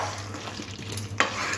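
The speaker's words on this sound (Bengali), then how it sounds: "খুব ভালো করে মিশিয়ে নেব গরম মশলার গুঁড়োটা" Spicy baby potato curry mixed with garam masala in a pan: soft scraping stirs over a low sizzle, with one sharper scrape of the spoon near the end.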